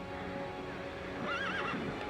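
Horses gathered during a forest fire whinny, a clear rising and wavering neigh standing out over a low rumble of background noise, with faint hoof clatter and no speech.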